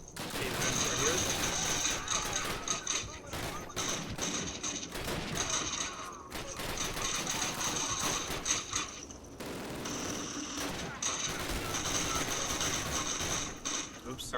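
Dense, continuous automatic gunfire and mechanical clatter from a World War II shooter game, Call of Duty (2003), loud throughout with brief lulls and a voice talking underneath.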